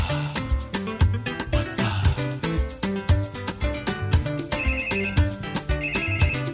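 A telephone ringtone plays as a continuous melodic jingle with a rhythmic beat, repeating bright high tones over bass, loud and alone with no talking.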